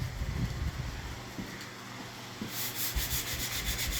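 Steady abrasive rubbing of sandpaper on a carved wooden guitar neck, continuous back-and-forth strokes at close range with no talking.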